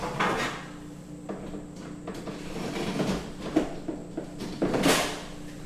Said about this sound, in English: we just stick them into the dehydrator now